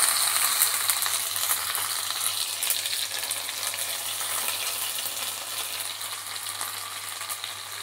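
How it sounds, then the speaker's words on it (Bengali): Onion, ginger and garlic paste sizzles in hot oil, a steady, close, dense frying hiss that runs the whole time without any talk. "পেঁয়াজ আদা রসুন পেস্ট দিলে পরেই তেলের ওপর দিলেই ফুটতে থাকে পেঁয়াজ দিলে"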